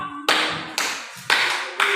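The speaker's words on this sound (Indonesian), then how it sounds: "tepuk tangan buat kelompok" Classroom students clapping for a group, heard as four separate bursts, each a sharp onset that fades quickly, with near silence between them.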